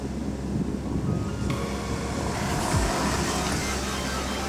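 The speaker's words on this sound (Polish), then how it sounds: "A jak jednostajnie dodamy, ale trochę szybciej, to już samochód po prostu zrywa się." An Audi A3 Sportback 1.8 TFSI with 180 hp accelerates hard, its engine note rising steadily over heavy road and wind noise heard from inside the car, with no talking.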